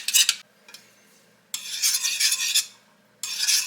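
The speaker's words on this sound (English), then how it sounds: "a tablespoon of soy sauce. Get that mixed in with the rest of your ingredients." Soy sauce stirred into orange chicken sauce in a pan, three bursts of scraping, rasping utensil strokes against the pan, close and fairly loud, with brief quiet gaps between.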